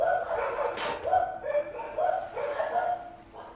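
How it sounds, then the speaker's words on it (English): Several pet dogs bark and yip repeatedly in an uneven, overlapping pattern at moderate loudness, heard indoors with no speech over them. "Do you hear my dogs?"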